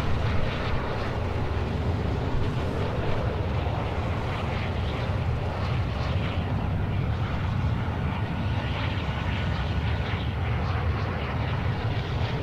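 A transport airplane in the Call of Duty: Warzone video game drones steadily and loudly, a dense, unbroken engine roar with no talk over it.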